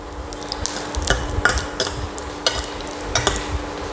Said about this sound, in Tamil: இதில் வரமிளகா, இது மட்டும் மரக்கரண்டியில் அள்ள முடியாதுன்றதில் இந்த கரண்டி போட்டுக்கிறேன் நான்.